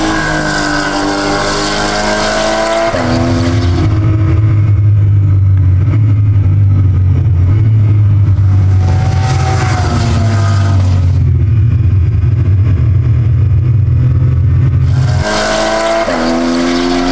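Porsche Cayman GT4 Clubsport race car on a circuit, engine roaring loudly and steadily, revving up and down between gear changes, with a few sharp bursts as it passes close; no talking.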